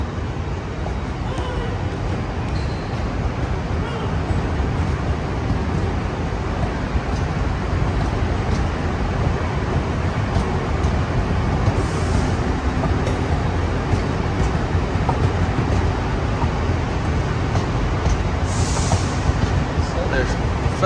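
A long freight train rolls past on a UK line near Eastrington and Howden, giving a continuous low rumble of wagons that holds steady and fairly distant throughout, with faint voices underneath.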